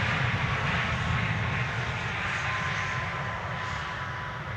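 An arriving airliner at Amsterdam Schiphol Airport passes with a loud, broad jet engine roar that stays steady and eases slightly toward the end, with no talking.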